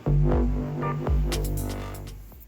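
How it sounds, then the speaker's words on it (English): A steady electric fan hum drones low and constant, with a few soft knocks and clatters nearby. "I do apologize if you hear this fan in the background."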